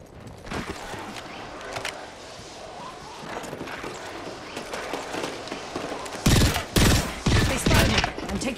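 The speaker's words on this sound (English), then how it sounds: "Opening fire on our prey. Getting shot at." Gunfire in Apex Legends: a string of sharp, crackling shots spaced unevenly across the scene, ending in a louder, denser flurry of close bursts.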